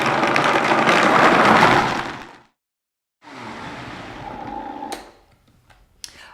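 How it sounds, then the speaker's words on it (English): A loud blender on high whirs steadily for about two seconds, stops, then runs again more quietly before winding down, with a few clicks at the end. "Add them to the water in the blender."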